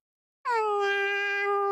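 A single drawn-out cat meow from a video game, clear and close, starting abruptly and holding a steady tone for over a second with no other sound around it.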